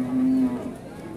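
A cow lows once at a busy Indonesian cattle market at Pasar Paing in Pati, a loud, close, drawn-out moo that fades into the surrounding market murmur.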